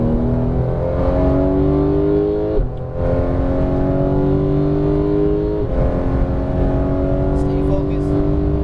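A Porsche 911 GT3 (991) engine howls loud and close on a race track, holding a high rising note, dropping sharply twice on gear changes and climbing again, with an instructor talking over it.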